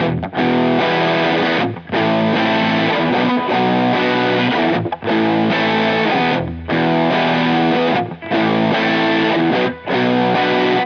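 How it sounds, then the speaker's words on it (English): Electric guitar through a loose, fuzzy distortion plays a loud sustained riff in repeated phrases, with short gaps between chunks and no voice. "So that's almost edging into a sort of fuzzy sort of territory. That's not a very tight sounding distortion."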